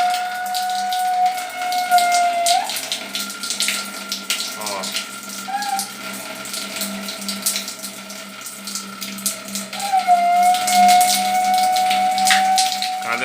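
Water rushes from an opened tap in home plumbing while the pipes give off a strange, intermittent whistling whine that grows and fades, with moderate, uneven loudness throughout.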